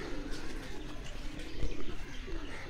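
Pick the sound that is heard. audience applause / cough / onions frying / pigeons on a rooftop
pigeons on a rooftop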